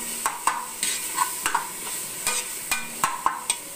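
Ginger garlic paste sautéing in hot oil with onions, a soft steady sizzle punctuated by repeated scraping stirs of a spoon against the pan.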